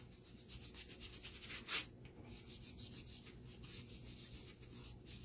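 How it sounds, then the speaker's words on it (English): A cloth rubs wax into a small painted magnet in steady back-and-forth strokes, soft and close, with one slightly louder swipe partway through and no talking. "So just rub the wax in, rub the wax off."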